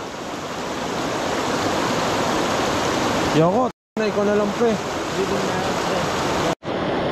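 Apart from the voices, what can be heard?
strong river waves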